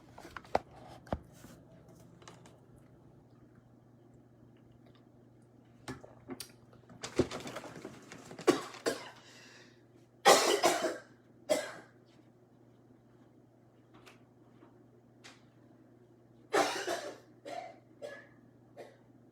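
Scattered bursts of coughing, several clusters separated by quiet stretches, close to the listener, with faint clicking sounds in between.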